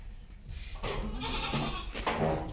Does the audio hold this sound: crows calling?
no